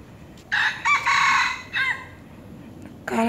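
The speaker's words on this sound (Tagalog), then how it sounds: "Ang daming sabungan na manok dito." Several roosters, fighting cocks, crow in loud bursts, one after another, with a final crow starting near the end over a low background hum, in Pasir Ris Park, Singapore.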